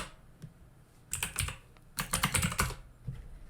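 Fast typing on a computer keyboard, with short bursts of clicky keystrokes close by. Quiet pauses separate the bursts, and no one speaks.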